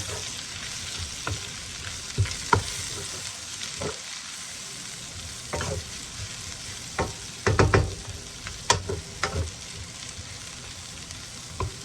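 Chicken and broccoli sizzle steadily in a hot pan, a constant bright frying hiss broken by clacks and scrapes of stirring, close and loud with no talk.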